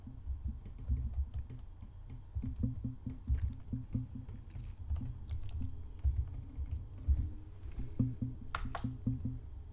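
A password is typed on a computer keyboard, a run of quick, light key clicks in uneven bursts and pauses, close and fairly quiet with no talk.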